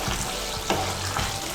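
Soybean masala gravy bubbling in a pan, a steady close sizzle and simmer with a couple of soft stirring clinks, no voices.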